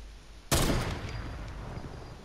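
A single sharp sniper rifle shot in the video game Fortnite cracks out loud and close, then a reverberant tail fades gradually over the next two seconds.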